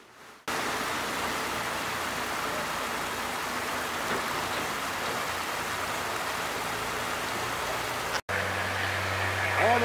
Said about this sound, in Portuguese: Tudo bem que tá chovendo.